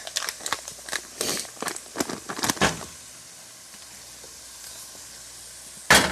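Butter sizzling in a pan as a small roux base is started and stirred with a wooden spurtle, crackling and spitting for a few seconds, then settling into a quiet hiss before a sharp clatter at the end.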